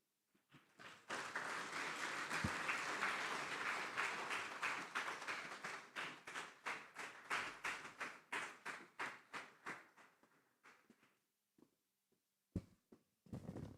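Audience applause at a closing session of a national economic conference for a permanent secretary, a brisk burst of many hands that thins into slower scattered claps and a few final isolated ones.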